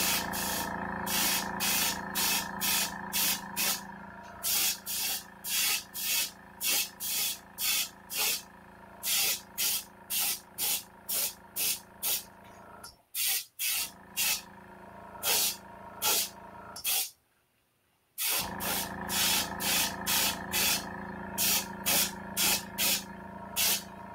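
Olive drab paint sprayed onto the cockpit of a P-47 model: a long run of short, loud hissing bursts in steady rhythm, broken by two brief pauses, with no voices.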